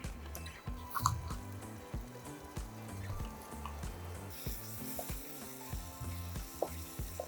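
Blended Kashmiri chili paste sizzles in a hot pan, a dense crackle with wet popping bursts and soft stirring scrapes, close and fairly quiet with no talk.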